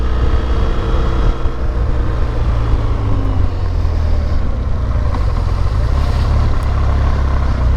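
A 2017 BMW R1200GS boxer motorcycle engine runs steadily at idle, a loud, close, low rumbling throb that holds even for the whole stretch without revving.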